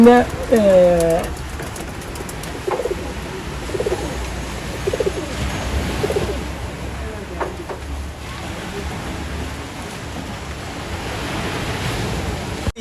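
Soft pigeon coos repeat every second or two against a steady windy, surf-like background, with a brief voice at the start.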